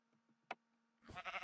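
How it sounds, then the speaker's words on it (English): Sheep bleating in the Minecraft video game, a short faint bleat near the start followed by a louder, wavering bleat at the end, no talking. "Where are the sheep? The sheep keep running away."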